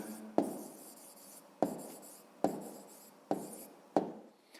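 Pen writing on paper while solving a fifth-grade maths exercise: five short bursts of scratchy strokes, each starting with a sharp tap, close and fairly quiet, no talk.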